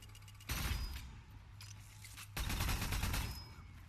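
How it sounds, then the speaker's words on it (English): A repeating pistol fires in Warhammer: Vermintide 2, two dense bursts of rapid shots, each roughly a second long, loud and close over a faint steady hum. "Some of the other weapons, repeating pistol here."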